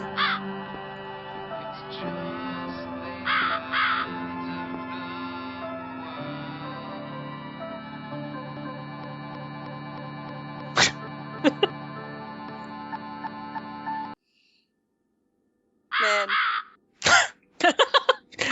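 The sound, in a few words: crow cawing in the video game The Cat Lady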